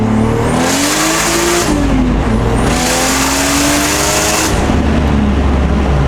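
A 600 whp race car roars past with engine revving and tires squealing as they break loose in two long sustained bursts, loud and close, with a steady rumbling drone underneath.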